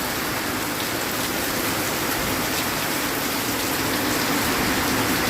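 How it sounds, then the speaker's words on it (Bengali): Steady rain falling, a dense continuous patter with no pauses, fairly loud and close, alone without any voices. "বৃষ্টি দেখতে খুব ভালো লাগে আমার।"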